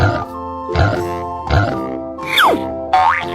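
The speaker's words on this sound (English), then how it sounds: "pig" A cartoonish pig grunts and oinks in a quick run of loud, close snorts, ending with springy boing-like squeals over a steady musical background.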